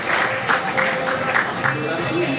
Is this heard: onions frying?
no